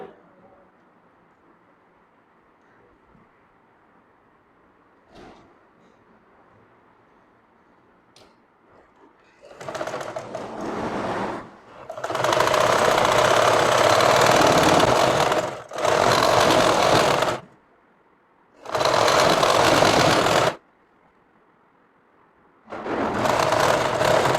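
A sewing machine stitches the side seam of a kameez, starting after a long quiet stretch and then running in several loud, steady bursts separated by short pauses.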